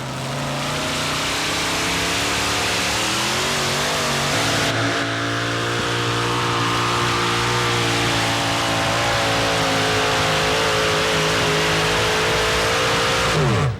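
A loud pulling-tractor engine, Glenn Davis's Mean Green from Pembroke Pines, Florida, roars steadily through a full pull at a 1988–89 Red Man series event. Its pitch climbs, shifts partway through, then holds as one continuous, near and dominant roar.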